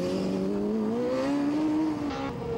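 University of Wollongong student-built race car pulling out of the pits, its engine note holding a steady, slowly rising harmonic drone that swells and then eases off near the end, loud and close with no talk.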